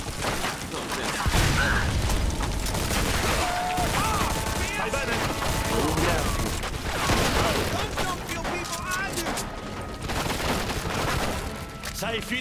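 Grease bomb going off in the video game Mafia 2, heavy booms and crashing blasts mixed with rapid gunfire and clattering debris, loud and sustained amid the chaos of a firefight, with brief shouted voices.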